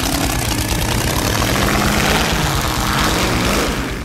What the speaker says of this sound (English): the SnowMonster has a Chevrolet 454 engine